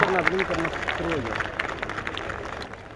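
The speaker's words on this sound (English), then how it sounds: "Big applause for Tajinder from United Kingdom" Crowd at a youth closing ceremony applauding a participant from the United Kingdom, brisk clapping running under a voice speaking over it, fading slightly toward the end.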